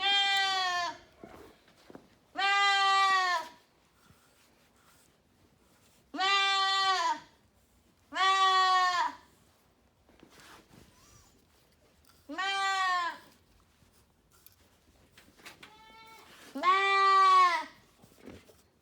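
A goat standing on a grooming stand bleats loudly six times in long, wavering cries separated by pauses of quiet, heard close and without talking.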